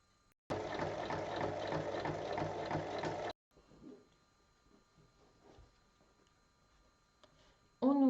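A sewing machine runs in one steady, rapid mechanical burst of about three seconds while stitching the full length of 10 cm fabric strips to 21 cm pieces. Quieter handling noises follow.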